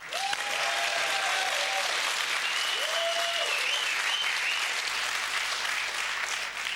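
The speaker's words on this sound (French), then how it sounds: "Ah bravo, ça s'applaudit" A studio audience at the Swiss French game show Le septante et un applauds steadily and densely throughout, a continuous wash of clapping with a brief musical sting or tone early on.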